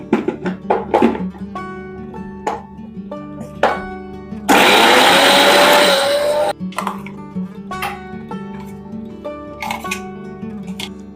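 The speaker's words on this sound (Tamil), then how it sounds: "இப்போ சின்ன வெங்காயம் அரைச்சிக்கலாம்." Mixer grinder blending small onions (shallots) for biryani, a loud roaring burst of about two seconds in the middle, framed by clinks, taps and handling knocks before and after.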